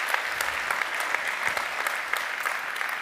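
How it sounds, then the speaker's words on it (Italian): Steady, dense applause from an audience at a members' meeting of a rural cooperative bank, many hands clapping continuously at even loudness for the full stretch with no talk over it. "Un applauso per Ugo, che davvero bravissimo, bravissimo"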